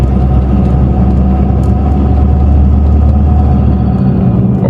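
Ford Ranger Wildtrak pickup engine running steadily inside the cab with the window closed, a continuous low rumble and hum at even, moderate loudness throughout, freshly fitted with a proper air filter.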